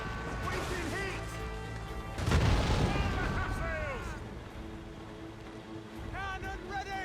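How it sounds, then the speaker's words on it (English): Naval cannon fire and explosions in the video game Assassin's Creed Rogue, with one heavy blast and crash standing out amid a loud, continuous battle din, while sailors shout over it. "Cannon ready! Fire! Put a shot through her there!"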